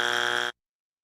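A loud, harsh electronic buzzer blares steadily for about half a second and then cuts off abruptly into silence.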